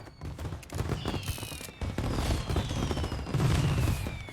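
Gunfire in Mafia 1 Definitive Edition, shots fired through a window in rapid bursts, loud and close, with sharp cracks and booming echoes continuing throughout.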